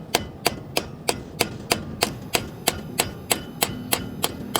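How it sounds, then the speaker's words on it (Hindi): A hammer drives a rawal bolt into a drilled hole in concrete during a solar panel installation, with fourteen evenly paced, sharp metallic strikes about a third of a second apart, close and steady with no talk. "अब इसको हम ठोकेंगे अंदर, रावल बोल्ट लगा दिया है, इसको अंदर ठोकेंगे।"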